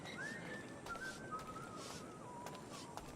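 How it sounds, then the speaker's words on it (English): Whistling from a character in Assassin's Creed IV Black Flag, a single clear melodic line gliding down in pitch over about three seconds, heard alone against a steady background ambience. "Who's whistling?"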